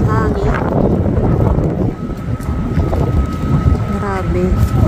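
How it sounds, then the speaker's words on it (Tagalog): Strong snowstorm wind roars steadily into the microphone outdoors near a Lidl store in spring, with someone speaking over the buffeting gusts. "Ang lakas ng hangin."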